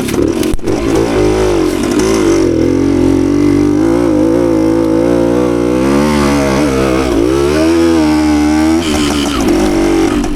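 A 52-year-old Suzuki TS185 two-stroke motorcycle revs on a dirt trail, its loud, buzzing engine rising and falling in pitch through the power band, with throttle blips and shifts heard up close.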